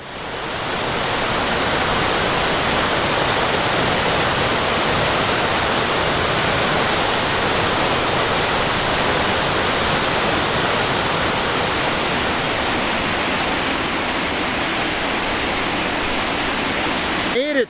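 Steady roaring rush of a river waterfall at Center Falls, loud and close, a constant broadband wash of falling water with no pauses.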